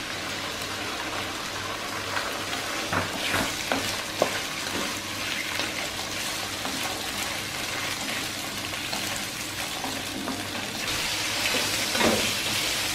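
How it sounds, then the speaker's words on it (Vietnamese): Oil crackles and sizzles steadily as chicken liver is stir-fried in a pan, with occasional louder pops and scraping stirs, no talking. "Rồi mình cho cái gan gà vô để mình xào trước nè."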